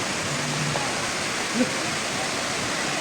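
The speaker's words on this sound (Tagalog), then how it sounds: "nakarating na kami sa Tinago Falls. Ito yan ang, ano namin, ang ganda ng waterfalls" Tinago Falls waterfall in Iligan City pours as a constant broad rush, close and steady for a few seconds, with a faint voice briefly audible beneath it.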